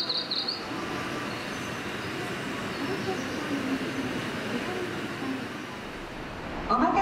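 A JR 285 series Sunrise Izumo sleeper express train at Osaka Station gives off a steady, close rumble that holds evenly for about seven seconds, swelling slightly at the end.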